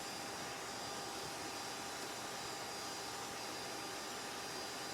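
A vacuum sucking yellow jacket wasps out of the air as they leave an underground ground nest gives a steady, loud broadband roar with a constant whine, continuous and unbroken throughout.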